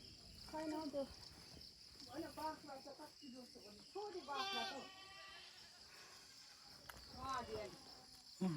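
Goats bleat several times in short bursts, fairly close, over a constant high insect chirring in the background.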